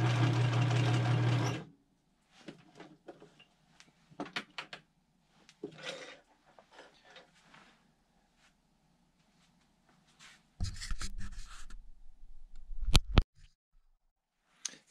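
A Kenmore 158.1785 sewing machine running a zigzag stitch, a loud steady whir up close that stops after a couple of seconds, followed by quieter handling clicks and a second brief burst of motor noise.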